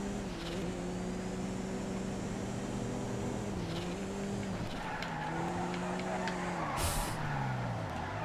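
A race car in GTA FiveM slides with drawn-out tire squeal and skidding over a steady engine drone, with a couple of sharper screeches and a brief burst late on, all moderately faint.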